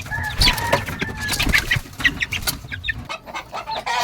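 A young chick from a winning gamecock line peeps and chirps up close in quick, high, uneven bursts, with some handling noise and faint clucking from nearby fowl.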